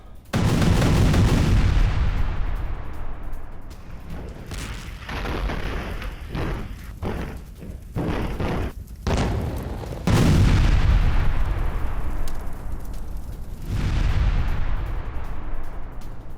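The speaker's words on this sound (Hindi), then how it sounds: "दोनों शॉट देखिए किस तरीके से अटैक किया गया अदन की खाड़ी में ब्रिटिश शिप और जर्मन शिप पर" Heavy gunfire and booming explosions from an attack on British and German ships in the Gulf of Aden, loud and dense, with repeated rumbling blasts and rolling reverberation throughout.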